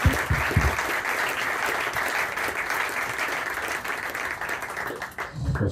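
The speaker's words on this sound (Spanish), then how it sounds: "un aplauso para vosotros." Sustained applause from a conference audience, even and fairly dense for several seconds, then thinning out near the end, heard from within the room.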